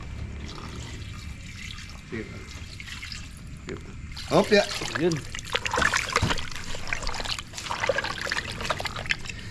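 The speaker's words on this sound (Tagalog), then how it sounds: "Pag-ibuhusan ng konting tubig." A little water is poured into a pot of pata tim, Kapampangan-style braised pork leg, making a brief trickling splash under a voice speaking nearby.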